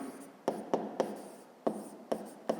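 Pen or pencil strokes on paper as an answer to a fifth-grade maths exercise is written by hand: a series of short, soft scratches and taps, about seven in all, close and quiet, with no talking.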